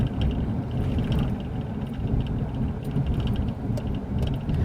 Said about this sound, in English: all the noise you heard is all my sunglasses